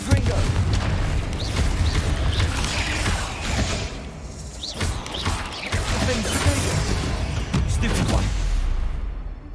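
Fiery Confringo spell blasts from Hogwarts Legacy combat pound out as loud, overlapping booms and crashes, a dense, sustained barrage with rumbling low end that dips briefly mid-way before surging again.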